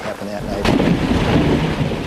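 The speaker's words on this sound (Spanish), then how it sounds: "Todo el mundo hablaba de la violentísima tormenta de rayos y truenos que hubo esa noche." Thunder from a violent nighttime thunderstorm, a loud rolling rumble building sharply after a quieter start and sustaining at a steady heavy level throughout, with no voices.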